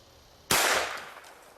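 A single sharp gunshot fired at a lock, loud and close, with an abrupt crack followed by a short decaying tail in otherwise quiet surroundings.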